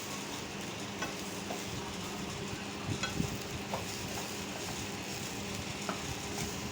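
Grated coconut roasting on a medium gas flame for chammanthi podi is stirred steadily, with a continuous soft sizzle and occasional light scrapes and clicks of the spoon against the pan. No one speaks.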